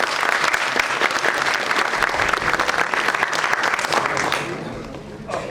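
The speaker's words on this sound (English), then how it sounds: "You can clap for yourself." A seminar audience on Industry 4.0 technologies claps together in dense, even applause that holds steady, then fades out over the final second.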